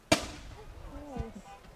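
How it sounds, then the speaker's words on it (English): A single sharp boom from a cannon fired at a 4th of July parade cracks out near the start, followed by voices talking outdoors. "No, that was the cannon."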